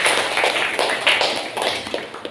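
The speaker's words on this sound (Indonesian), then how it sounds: "Kasih tepuk tangan dulu." Classroom applause from a group of students, a dense, steady patter of many hands clapping close by, continuous for a couple of seconds and fading slightly toward the end.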